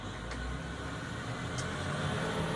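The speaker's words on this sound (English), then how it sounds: "As the big old truck's coming down the street, I'm sure you could hear it." A big old truck drives along a street, its engine giving a steady low rumble with a continuous road hum that stays fairly close and even, with no talk over it.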